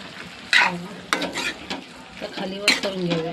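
A spatula stirs a bell pepper curry with curd in a pan, making several scraping strokes against the metal over a soft background sizzle, close and fairly loud.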